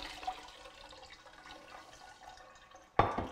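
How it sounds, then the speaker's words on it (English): Wort trickling and draining from a beer mash as grains are rinsed of sugars while brewing a Lagunitas IPA clone, a steady soft water flow ending in a louder close splash. "you see it's running a little bit more clear out of the bottom"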